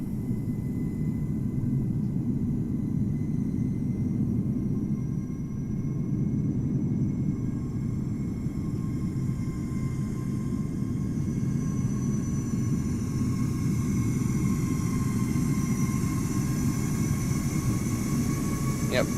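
Airbus A321 airliner, the standard non-Neo current engine version, in Microsoft Flight Simulator at Amsterdam Schiphol in cloudy weather, giving a steady low jet engine rumble with a rising whine for the whole stretch, loud and continuous.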